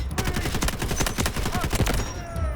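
Rapid bursts of automatic gunfire in the video game Delta Force: Hawk Ops rattle continuously, dense and loud, with sharp overlapping shots throughout.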